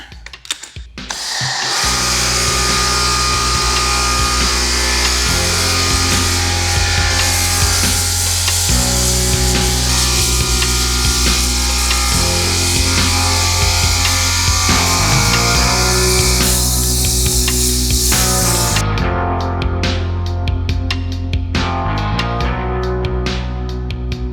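A foam cannon sprays Dawn soap foam onto a Harley-Davidson motorcycle, producing a loud, steady pressurized hiss that runs almost unbroken, with a rumbling pump or washer tone underneath before cutting off near the end.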